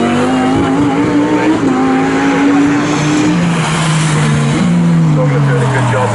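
GT Cup race cars at Snetterton roaring past loudly, engine notes rising and shifting as several cars pass in close succession, with commentary running over the top.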